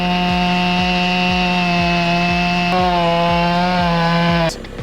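Chainsaw cutting wood during tree felling, a loud close engine whine with a rhythmic pulse of the chain biting, rising slightly in pitch before cutting off abruptly near the end.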